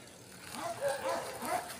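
A few short dog barks and yips sound close by in quick succession, brief and moderately loud.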